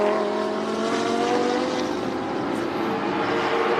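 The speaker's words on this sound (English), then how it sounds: "As one of the Lamborghinis comes in, that looks like the 75 car of CJ Huang coming in for his mandatory stop" A Lamborghini GT3 race car in the 2019 China GT Championship at Shanghai heading into the pits for a mandatory stop, its engine a loud, steady droning roar held throughout with no talk.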